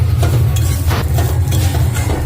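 Sev (vermicelli) roasting in ghee in a home kitchen pan, heard as a steady close sizzle with a low hum and occasional soft stirring scrapes, no talk.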